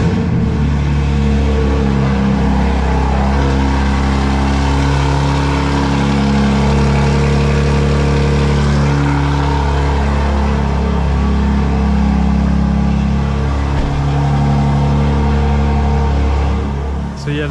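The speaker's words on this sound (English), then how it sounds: "Burbles are on, and I'm gonna start the car." A 2024 BMW M4 Competition xDrive with its exhaust valves fully open, in full sport mode with burbles on, runs close and loud in a deep, steady idle with a low rumble throughout.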